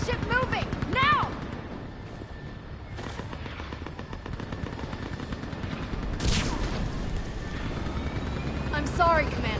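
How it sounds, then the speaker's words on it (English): Gunship lifting off in the video game Mass Effect, a steady rotor-like roar with scattered bursts of gunfire and sharp impacts layered over a dense battle din, with voices mixed in. "Get that gunship moving!"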